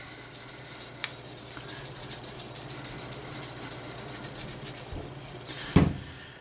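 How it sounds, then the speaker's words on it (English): Steady rhythmic brush scrubbing on Type 97 Gen 3 rifle bolt parts, close and even, with quick repeated strokes and a knock near the end. "Give it a bit of a scrub there."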